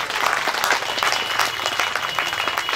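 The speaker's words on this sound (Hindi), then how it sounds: "शाम प्रभु के लिए ताली बजे" A devotional audience at an ISKCON kirtan gathering applauds, a dense, steady burst of many hands clapping close and loud throughout.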